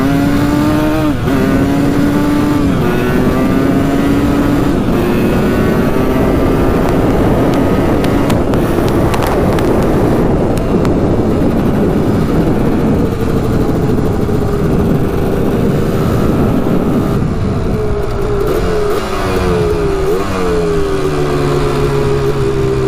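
A Honda TRX250R two-stroke ATV accelerates hard in first gear, its loud buzzing engine climbing in pitch through several gear-like surges, close and sustained for over twenty seconds.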